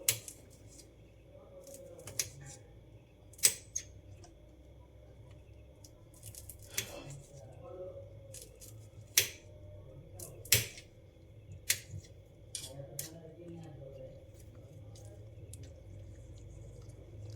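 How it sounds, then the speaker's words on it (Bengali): Green chillies are cut for masala muri in a quiet kitchen. Sparse, sharp snipping and chopping clicks come close by, one at a time at uneven intervals, over faint background hum. "ডালের পর অ্যাট ফার্স্ট কাঁচা লঙ্কাগুলো কেটে নিচ্ছি"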